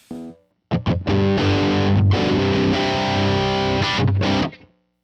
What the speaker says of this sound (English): let's turn on like the Asabi distortion